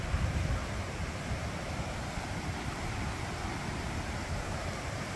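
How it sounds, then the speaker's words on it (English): A flooded brook overflowing its banks, giving a constant broadband rush of running water, steady and moderately distant with no voices. "That brook is flooded out and overflowing."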